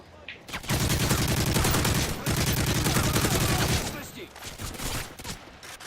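Rapid bursts of MP7 submachine gun fire ring out in the video game Modern Warfare 3, a dense rattling stream broken by brief pauses.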